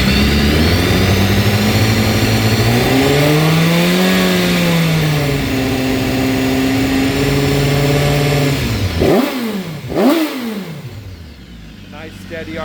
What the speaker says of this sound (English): It makes some noise when you give it a rev.